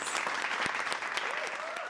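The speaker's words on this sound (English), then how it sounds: "Let's give ourselves a round of applause" A small group gives a round of applause at the close of an online arts and literacy class, steady clapping filling two seconds, with faint voices and a brief rising vocal whoop near the end.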